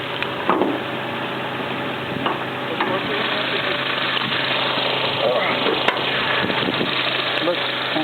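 A car engine idles with the hood open at a small car meet, a steady close rumble with faint ticking, while people talk nearby.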